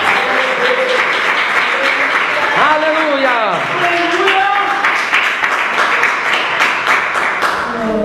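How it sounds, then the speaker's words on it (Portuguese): A church congregation claps along throughout, dense and fairly loud, while a voice rises and falls in pitch over the clapping. "Pode bater as palmas com glória a Deus."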